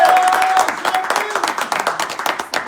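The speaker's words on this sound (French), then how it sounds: "Sous vos applaudissements, mesdames et messieurs." Applause at a press conference in Morocco for a Guinean singer, sparse close hand claps from a small audience in an irregular rhythm, with a voice speaking over the start.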